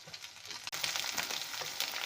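Onion, tomato and spice paste frying in a pan as it is stirred, a steady close sizzle with a brief break in the sound partway through, then continuing evenly with no talking.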